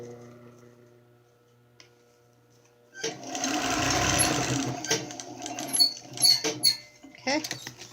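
A sewing machine stitches around a fabric face mask, whirring in a steady close run after a quiet start, then breaking into short stop-start bursts with small clicks.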